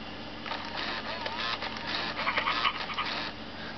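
A Hasbro FurReal Friends Scamps animatronic toy puppy gives a run of synthetic barks, whimpers and panting yips, fairly close and steady, with small mechanical whirring underneath.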